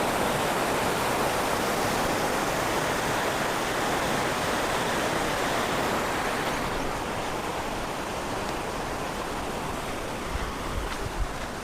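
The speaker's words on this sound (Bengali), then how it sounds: "আর এই ব্রিজ, এই সাইডে বেরিয়ে যাচ্ছে জল, এই দেখুন।" Water pours out beside a bridge at a dam near Jamshedpur, a steady, loud rushing roar that fills the whole stretch without a break.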